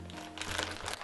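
A plastic package being torn open with teeth gives a brief, close crinkling rip that lasts about a second, with no talking.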